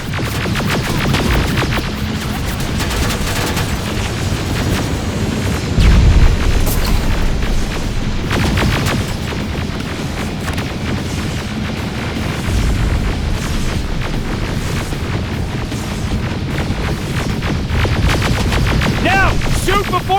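Grenade and rocket explosions in the Terminator Resistance video game, a dense run of loud booms and bursts of gunfire over a continuous rumbling battle bed, with a stronger blast partway through.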